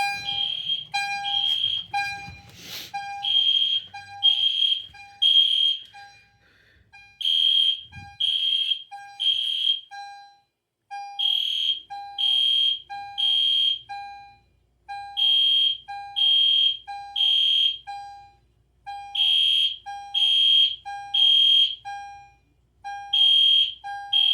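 An EST Genesis fire alarm sounding during a test repeats a loud, piercing electronic tone in steady groups of pulses with short pauses between sets, a quieter unit than a horn strobe, alone with no talking.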